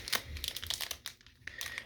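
A Lorcana trading card pack wrapper crinkles and tears open in quick, close crackling rustles for a couple of seconds.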